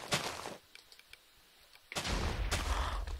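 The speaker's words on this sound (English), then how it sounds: "did you see that massive explosion?" Explosions in the Minecraft mini-game Crafty Bomber: a burst of blasts, then a quieter stretch of scattered pops, then a long loud rumbling boom.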